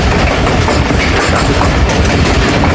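The 13 Up Awam Express rolls steadily on its approach to Golra Sharif Junction, a loud, continuous rumble and clatter of wheels on rail with no voices.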